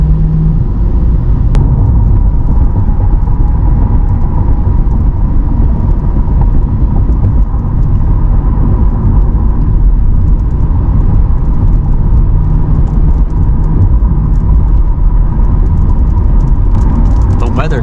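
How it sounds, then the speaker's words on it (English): A 2020 Corvette C8 Z51 engine accelerating on the road, heard from the cabin as a loud, steady, deep rumble with constant road noise, no distinct revving peaks, and a voice talking over it. "And the sound when you actually get on it sounds incredible."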